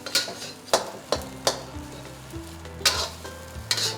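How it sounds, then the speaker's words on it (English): A spatula scrapes and knocks against a frying pan while breaking up day-old rice, giving a series of sharp, close clacks and scrapes at irregular intervals over a low sizzle. "just dig in there with your spatula and break up the rice"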